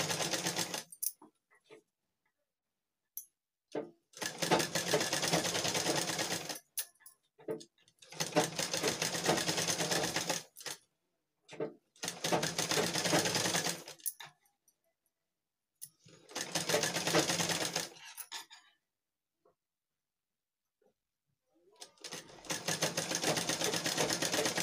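A sewing machine stitches around the folded edge of a blouse in five bursts of rapid, close mechanical chatter lasting a few seconds each, separated by quiet pauses with light handling clicks.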